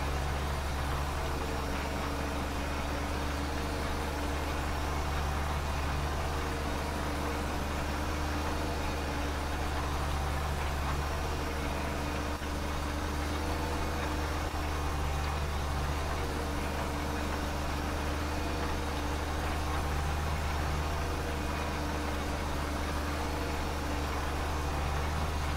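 A tractor engine runs in the Farming Simulator 2013 game, a steady unbroken drone with a dense noisy hiss that holds at an even level throughout, with no talking.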